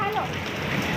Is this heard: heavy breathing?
no